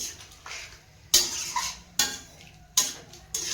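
Metal clanks sharply against a pot of cooking vegetables as it is covered with a lid, four distinct close strikes about a second apart over a quiet background.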